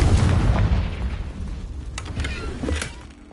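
The Confringo fire spell in Hogwarts Legacy blasts into a loud, booming explosion that rolls into a decaying rumble, with a couple of smaller pops near the end.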